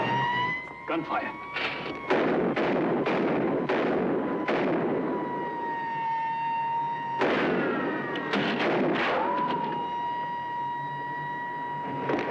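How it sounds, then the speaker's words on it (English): Gunfire in a 1954 film noir scene: a series of sharp shots cracking in bursts, mixed with loud musical tones, sustained sound and voices throughout. "Gunfire."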